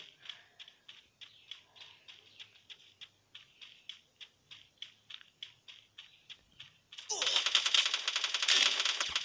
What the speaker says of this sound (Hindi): Machine gun sorry.